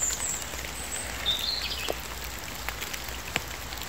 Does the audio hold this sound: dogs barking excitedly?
no